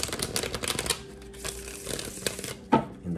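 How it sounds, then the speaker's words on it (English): Tarot cards are shuffled by hand with rapid riffling and flicking in quick bursts, close and fairly quiet, followed by a few soft taps and pauses. "I finished shuffling as if it was the end of the third time"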